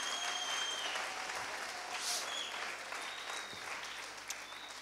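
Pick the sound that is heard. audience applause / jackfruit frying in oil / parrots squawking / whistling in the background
audience applause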